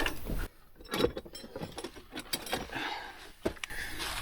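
A cleanable fuel filter on a Jeep is unscrewed with a few faint metallic clicks, scrapes and ratcheting taps, close but quiet and irregular, with no talking.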